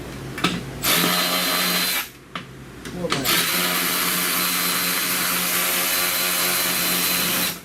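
Power drill whirring loudly and steadily as it drives screws into a 2007 Suzuki Forenza during air conditioning repair, close by, with a short gap and a few brief bursts before a long continuous run.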